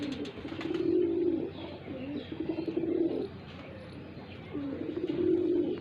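Pigeons cooing nearby in repeated low, throaty bursts, three rolling coos separated by short pauses, with a faint outdoor background.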